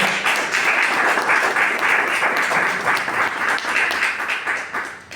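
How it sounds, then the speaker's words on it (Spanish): Sustained applause from a church congregation filling a worship service, dense steady clapping with some cheering voices mixed in, loud throughout and easing slightly at the end. "Dale un fuerte aplauso al Señor."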